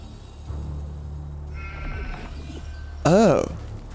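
A sheep bleats loudly once near the end of a quiet video game scene, a short wavering cry standing out above low ambient background and faint game sounds.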